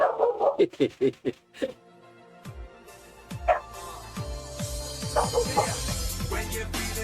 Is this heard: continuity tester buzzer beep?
no